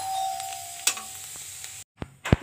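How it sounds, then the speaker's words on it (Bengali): Food frying in a pan gives a steady close sizzle with a few utensil clinks, then a brief cut to silence followed by sharp knocks. "এবার ভাজবো আমি"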